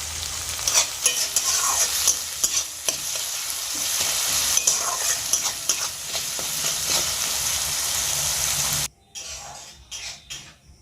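Chopped tomato with a spoonful of salt fries in a pan, a close crackling sizzle broken by repeated spatula scrapes and clinks, then the sizzle drops sharply near the end, leaving quieter scraping.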